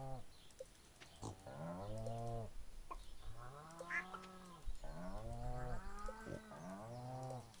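Cattle lowing repeatedly on a farm in the Stardew Valley video game, several drawn-out moos overlapping one another alongside faint bird chirps, with no talking.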